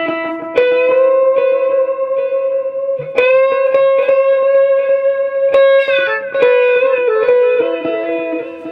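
An electric guitar through a high-wattage amp plays sustained notes and chords, each attack followed by a quick slapback echo from an analog delay pedal that thickens the sound; no voices.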